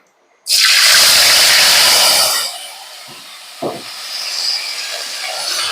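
Ginger and green chilli paste drops into a hot pan with a sudden loud hiss that roars for about two seconds, then eases into a quieter, steady fry with a single stirring knock.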